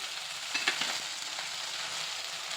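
Mixed vegetables for Bhogi bhaji, including pigeon peas, jujube berries, green peas, peanuts and sugarcane, sauté in a pan with a quiet steady sizzle and a few light stirring clinks, with no voices.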